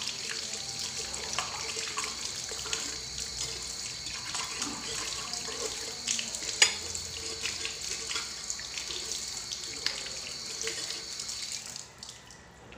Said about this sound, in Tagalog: bibig lang po ng kalis yung hugasan natin